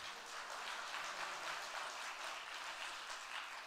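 Audience applause at a church Christmas celebration night, a steady, dense wash of clapping that holds evenly throughout at moderate distance, with no talk over it.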